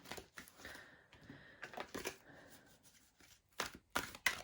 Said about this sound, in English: we're going to give these a riffle shuffle just to make sure that they're evenly distributed